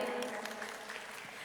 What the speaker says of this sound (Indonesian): Sekali lagi berikan tepuk tangan untuk orator kita